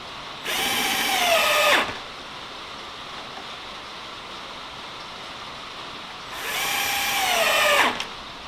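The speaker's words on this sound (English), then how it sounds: "So now I can just go through and put the screws in." A power drill drives screws into wooden braces, with two loud whirring runs of about a second and a half each, separated by several seconds of steady background noise.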